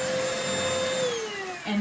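A cordless iwoly C150 vacuum cleaner with a 2200mAh rechargeable battery runs steadily up close, a constant motor whine that holds even and then drops slightly in pitch near the end.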